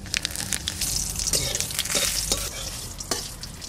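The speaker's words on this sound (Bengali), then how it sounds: "এবার ডালটা ফোড়ন দিয়ে দিচ্ছি।" Panch phoron and bay leaf hit hot oil to temper dal in a village kitchen. The result is a sharp crackling sizzle with stirring scrapes and popping spatters, moderately loud and continuous over a few seconds, with no voices.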